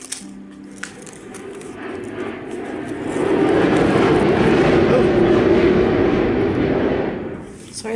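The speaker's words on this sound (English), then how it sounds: "Sorry about that, big plane." A big airplane flying overhead outdoors, its broad engine roar swelling from a faint rumble to a loud peak and then fading away over several seconds.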